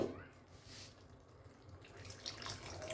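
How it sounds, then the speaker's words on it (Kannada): Water pouring into a cooking pan on the stove for bitter gourd palya, a short soft splashing trickle, faint and close, with no one speaking. "ಇನ್ನೊಂದು ಸ್ವಲ್ಪ ನೀರು ಬಿಡಿ."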